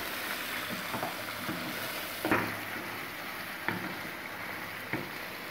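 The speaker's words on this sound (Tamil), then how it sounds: "இந்த மட்டனை இந்த எண்ணெயிலே நம்ம கொஞ்சம் நேரம் வதக்கணும்." Mutton sautés in oil in a kadai, a steady low sizzle broken by a few spoon scrapes and clinks against the pan, moderately quiet with no voices.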